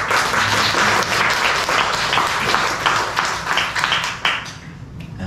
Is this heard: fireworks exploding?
no